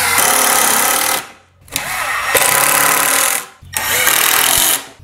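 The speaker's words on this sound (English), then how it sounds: "the drill goes when it goes, that's when the screw is getting tight." A power drill driving screws into a kitchen cabinet box, whirring loudly in three long bursts, each pitch bogging down slightly as the screw tightens, with short pauses between.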